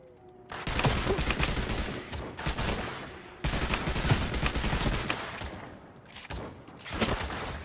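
Rapid automatic gunfire in the Realm Royale video game: dense, loud bursts of overlapping shots in long volleys with short gaps between them.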